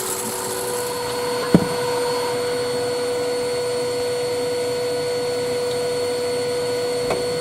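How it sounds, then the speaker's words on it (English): Shop-made carbide cutter machining a mortise in a piece joining acrylic with iroko and chestnut wood: a steady, droning machine hum with a thin whine, broken by one sharp click near the start. "There you go, shop-made carbide cutter."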